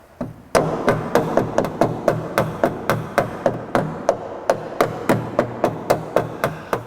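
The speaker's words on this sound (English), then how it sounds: "so that I can hammer this one onto the front and get this little piece of metal down a little flatter." Sharp metallic hammer blows ring out as a small piece of car sheet metal is flattened against another hammer during rust repair, in a steady, rapid rhythm, about three strikes per second, close and loud with no talking.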